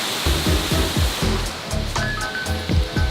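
Kitekite Falls in New Zealand roars loudly and continuously up close, with rhythmic low thumps and splashing under the steady rush of falling water, and no talking.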